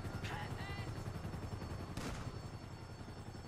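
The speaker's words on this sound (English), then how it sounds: "Oh, somebody shooting." Gunfire in GTA 5 Online, with a few sharp shots cutting through a busy, noisy game mix, including a distinct burst near the start and another around the two-second mark.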